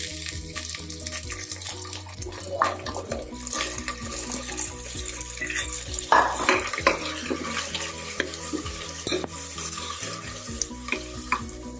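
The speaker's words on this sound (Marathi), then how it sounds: "आता यामध्ये हा तांदूळ घालून परतून घ्यायचा आहे।" Rice sautéed in ghee in a pan with cinnamon, cloves and cardamom for coconut milk pulao gives a gentle sizzle under repeated scraping and stirring from a spatula, with a brief louder clatter midway.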